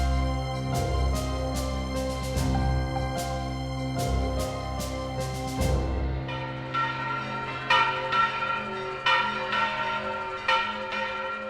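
Church bells in São João del Rei, Brazil, ring out during Holy Week in repeated, resonant strikes, layered tolls overlapping with a long ringing decay, then a quicker, lighter pealing pattern.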